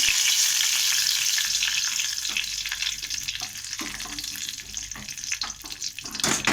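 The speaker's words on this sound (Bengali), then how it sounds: "কড়াইতে তেল দিয়েছি, 5 ফোঁটন দিলাম" Loud, constant crackling sizzle of five-spice seeds and bay leaves in hot oil in a wok, close up, with occasional stirring clatter and no talking.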